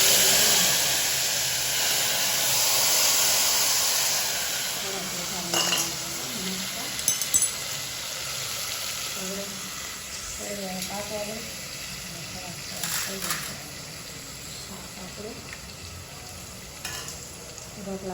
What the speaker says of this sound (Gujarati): ચાલો હવે છે ને વઘાર મારી દઉં